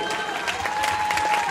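Steady applause from a crowd at a festival queen coronation in San Juan Nonualco, dense and continuous, heard at a distance with a faint tonal hum underneath.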